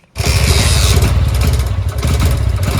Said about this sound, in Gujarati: ફાઇનલી બાઈક ચાલુ થઈ ગયું